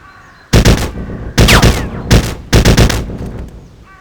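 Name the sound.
gunfire shooting at a lock in Trespasser video game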